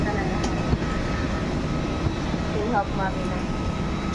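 Steady broadband engine and air-conditioning drone inside an AirAsia airplane cabin during boarding, continuous and fairly loud, with people talking over it.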